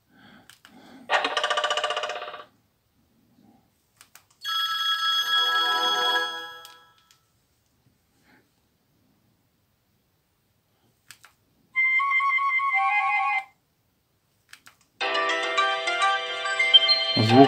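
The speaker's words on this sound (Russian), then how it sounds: "Саунд, звук, рингтоны." Several ringtones from a Sony Ericsson K750i mobile phone play one after another through its original speaker, each a short bright electronic melody separated by silence, clear and close.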